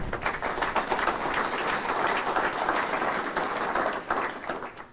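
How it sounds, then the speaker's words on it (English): Sustained applause from an audience honoring police officers and firefighters at a mayor's State of the City address, dense steady clapping that stays loud for the whole stretch before tapering slightly at the end. "They deserve a round of applause."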